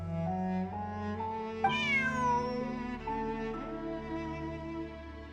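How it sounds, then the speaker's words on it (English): Cat meowing in Genshin Impact, a drawn-out rising and falling meow at mid-clip over steady game music and ambience, moderately close. "Bonnie is Pierre's cat."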